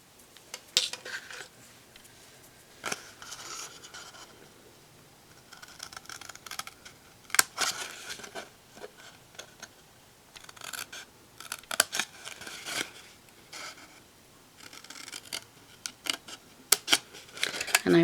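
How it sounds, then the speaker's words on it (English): Scissors snip through paper along score lines to form box flaps, giving a close, quiet run of irregular crisp cuts and rustles with brief pauses between strokes. "we're going to just cut up these bottom score lines to make our flaps."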